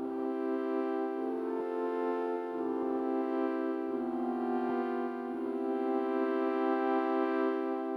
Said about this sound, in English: If you've ever taken a piano lesson or had the privilege of listening to a student practice,